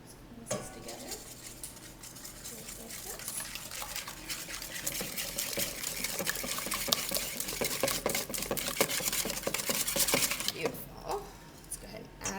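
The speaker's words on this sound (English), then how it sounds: "let's mix this together" Bread pudding ingredients with almond extract are stirred together in a bowl, giving a busy, continuous clatter of utensil against dish with wet sloshing, mostly without talk.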